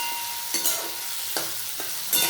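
Vegetables and chopped ginger for chilli paneer fry with a loud, steady sizzle in a pan, broken by a few distinct scraping stirs of the spatula.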